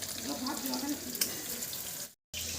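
Ash gourd fritters sizzling in hot oil, a steady close crackle and hiss that runs without a break, then cuts out briefly to silence near the end and comes back.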